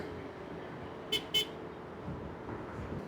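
Two short car horn toots in quick succession, somewhat distant, over a steady low hum of traffic.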